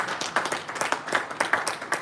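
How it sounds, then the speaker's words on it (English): Audience at a business conference in a hotel hall gives brisk, uneven applause, a quick series of individual claps overlapping at moderate volume, with a faint murmur of voices. "Can you applaud yourself for your wise decision?"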